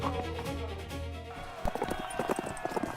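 Horses' hooves clip-clop as a chariot moves through city streets, a quick irregular run of hoof strikes coming in after a soft musical passage, moderately near and fairly quiet.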